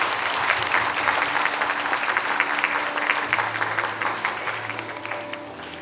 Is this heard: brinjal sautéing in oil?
no